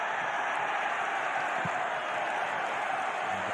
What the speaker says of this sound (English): And the crowd, as you can hear,